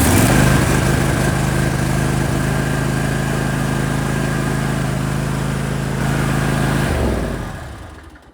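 A riding lawn mower engine, just fitted with a new solenoid, runs loud and close with a steady drone, then dies away toward the end.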